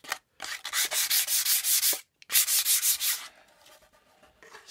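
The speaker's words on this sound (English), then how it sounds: "Just accentuating the hole by rubbing it there. Just rubbing at the edge." Hand sanding at the edge of a hole in a wooden workshop piece, a steady series of close rhythmic rubbing strokes in two runs with a short pause between, then fading to quieter scuffs.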